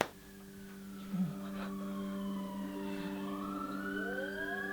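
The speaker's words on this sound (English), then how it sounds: "Ambulance." A siren drones with a slowly falling, then rising wail over a steady low hum, moderately distant and continuous throughout.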